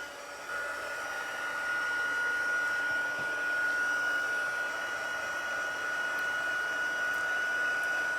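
A heat embossing tool set on high blows with a steady, close whirring hiss and a constant tonal hum, running without a break for about eight seconds.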